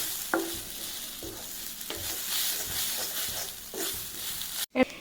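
Coconut pieces and vegetables hit hot coconut oil in a pan, giving a loud, continuous sizzle with repeated clanks and scrapes of a spoon stirring, close up, and a sharp knock near the end.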